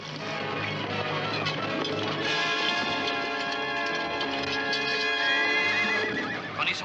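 A horse in an old Zorro adventure whinnies and stamps near a road ambush, a sustained neigh rising over a dense, continuous wash of orchestral score and steady background noise.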